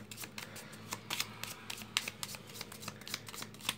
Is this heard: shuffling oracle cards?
yes